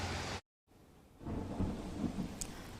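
Heavy rain pours down in Ahmedabad during a flooding storm, with a steady hiss of rainfall and low rolling thunder rumbling close by, broken by a brief moment of total silence near the start.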